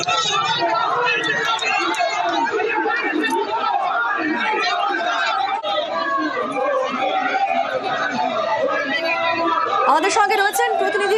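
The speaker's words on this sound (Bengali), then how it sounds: "দুই দলের মধ্যে তুমুল স্লোগান" A dense crowd of TMC and BJP supporters face off with slogans and counter-slogans outside a BDO office in Rajarhat, producing a loud, continuous roar of overlapping voices with no pauses throughout.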